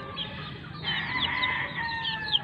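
Gamefowl chickens of Kelso, Gilmore and pumpkin hatch lines cluck and crow on a farm, several birds calling close by in a steady, busy chorus with no talking.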